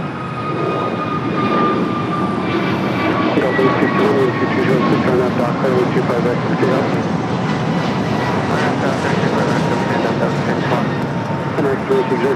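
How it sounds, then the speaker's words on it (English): An Airbus A321neo jet at LAX, bound for Chicago O'Hare, gives off a steady, loud broadband roar with a thin whine running through it, holding level for the whole stretch while voices murmur faintly underneath. "It's an A321 Neo heading to Chicago O'Hare"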